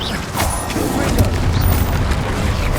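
A Confringo spell explodes in the video game Hogwarts Legacy, a loud booming blast followed by deep rumbling and crackling debris that sustains for nearly three seconds.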